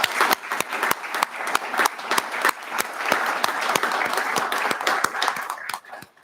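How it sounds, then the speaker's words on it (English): Audience applause at a student award ceremony for top freshmen: dense, steady clapping from a sizable crowd with sharp individual claps standing out, sustained for several seconds before tapering off at the end. "Could we give all of our honorees another round of applause?"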